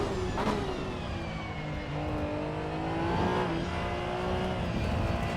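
A race car engine in the sim racing game Assetto Corsa EVO revs and shifts through gears, a loud steady whine with rising and falling pitch and brief tire noise, no voices.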